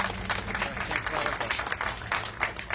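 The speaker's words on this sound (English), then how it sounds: "let's give him a warm round of applause" An audience applauding Governor Lamont at a public event in Connecticut, a brief burst of steady clapping from a crowd, fairly close, with some voices mixed in.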